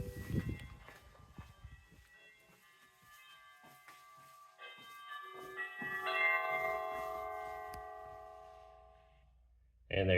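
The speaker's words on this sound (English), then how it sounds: "first I'll just ring the doorbell to show you that it works" A Google doorbell sets off a Honeywell chime indoors, ringing tones that ring out and slowly decay over several seconds after some rustling handling noise, ending with a sudden louder thump.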